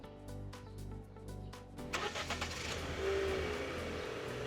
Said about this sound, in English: Let's see if we can start the engine.